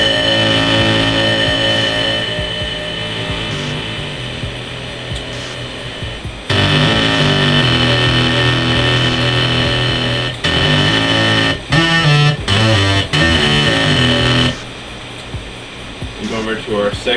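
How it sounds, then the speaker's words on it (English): Music processed through a flanger effect using the In the Box preset, with sweeping comb-filtered tones over loud sustained synth chords, abrupt section changes and choppy stuttering cuts toward the end. "What I put on it was a flanger, and the preset is called In the Box."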